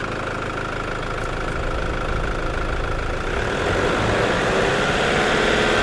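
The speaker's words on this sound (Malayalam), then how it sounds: "ഒന്ന് റൈസ് ചെയ്യാം കേട്ടോ" A Toyota Fortuner 4x4 engine runs loud and close, holding a rough steady drone that swells slightly as it is revved toward the end, with no voices.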